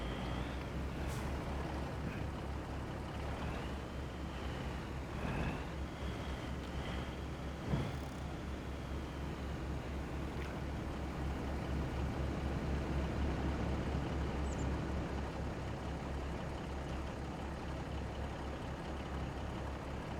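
A modded International truck with about 800 horsepower in a farming video game drones steadily throughout, a continuous low engine hum with no real change in pitch or loudness.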